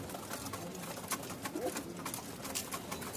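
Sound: pigeons cooing at a pigeon market

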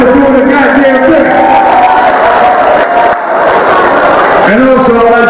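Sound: crowd applause and cheering at a wedding party

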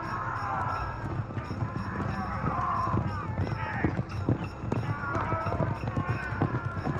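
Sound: horse-drawn chariots charging

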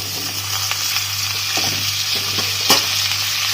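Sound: potatoes frying and being stirred in hot oil

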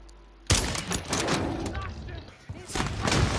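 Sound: gunfire in the video game Modern Warfare 3

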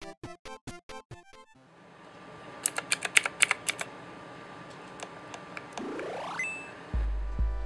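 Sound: typing on Divoom Ditoo 6-key mechanical keyboard

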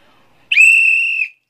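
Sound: loud human whistle

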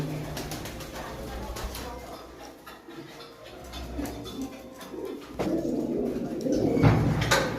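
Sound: pigeons cooing

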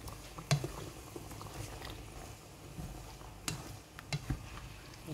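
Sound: stir-frying chicken with coconut water in a pan

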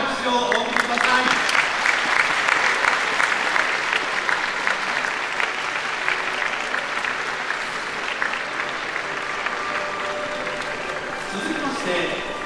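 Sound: crowd applause at horse race awards ceremony

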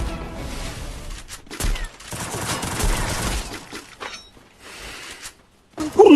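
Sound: gunfire in the Free Fire video game

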